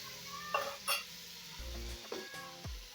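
Coriander paste and coconut tossed into a pan for a pumpkin and moong dal usal, giving a soft sizzle with a few scraping stirs and spoon knocks, close and fairly quiet, with no talking.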